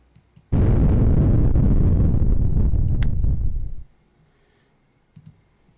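A nuclear surface burst detonation in the video game Nuclear War Simulator erupts as a sudden loud, dense roar that holds steadily for about three seconds and then cuts off, framed by a few faint mouse clicks.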